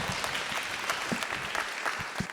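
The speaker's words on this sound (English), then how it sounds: "Oh, there's applause." Audience applause at a trivia night, a steady wash of clapping from a crowd that holds at an even level throughout, with no voices standing out.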